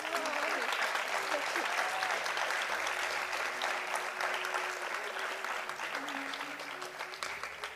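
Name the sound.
round of applause after dance performance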